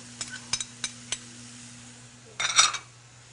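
Red pepper slid into a pan of softened onions and sliced garlic over medium heat: a few light clinks and stirs of utensil on pan, then a short burst of sizzle near the end, with a steady low hum throughout.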